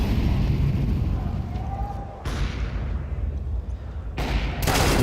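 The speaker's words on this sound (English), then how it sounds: "Grenade lands on ZywOo. He's down to 43, and he is somehow dodging the fire." A Counter-Strike grenade blast and fire during the G2 Esports vs Team Vitality IEM Dallas 2024 grand final: a steady roar of burning and distant gunfire, with two sharp bright bursts cutting in, and faint caster talk underneath.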